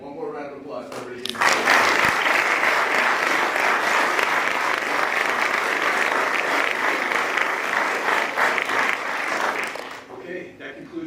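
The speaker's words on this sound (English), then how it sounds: "one more round of applause for everybody" Loud, sustained applause from an audience at a promotion ceremony starts abruptly and holds steady for about nine seconds before stopping.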